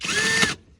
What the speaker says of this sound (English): No, it's just my drill.